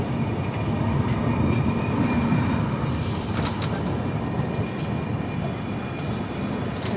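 The Nanded–Santragachi superfast express runs at speed near Ghatshila, a steady rumbling roar of wheels on rails with faint squeals and clatter, heard from on board with no talk.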